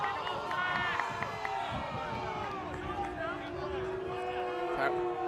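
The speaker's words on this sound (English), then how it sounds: "Crowd has some opinions on that one" A football match crowd roars and jeers after a foul, a broad steady wash of voices with rising tones, with a commentator talking over it.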